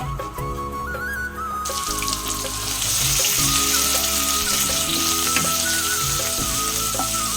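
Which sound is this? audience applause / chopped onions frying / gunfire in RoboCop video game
chopped onions frying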